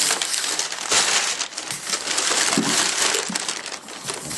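Packing paper is pulled out of a shipping box containing an ASUS Transformer Book T100 tablet, giving continuous loud, close crumpling and crinkling with sharper crackles throughout.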